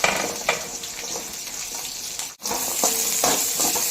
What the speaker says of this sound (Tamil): நல்லா ஒரு ஓடு நிறத்து வரணும் அந்தளவுக்கு நல்லா வதக்கிடுவோம்